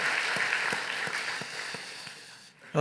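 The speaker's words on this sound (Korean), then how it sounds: "우리 성가대에게 격려의 박수" A church congregation applauds the choir after a Christmas anthem, a moderate, even patter of many hands that fades toward the end before a sudden louder sound cuts in.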